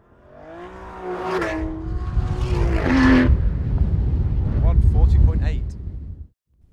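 A sports car, a Mercedes-Benz C63 AMG Black Series, Porsche GT3 or Aston Martin V12 Vantage, lapping a race track under hard driving, its engine roaring and revving up and down loudly, with a brief rising whine before it cuts off.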